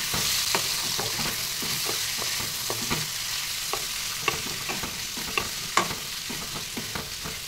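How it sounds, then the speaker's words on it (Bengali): Chopped onions, about 500 grams, frying in oil for a mutton curry, a steady close sizzle with repeated scraping clicks of a spatula stirring them in the pan. "পেঁয়াজটাকে এবার ভালো মতো একটু ভেজে নেব।"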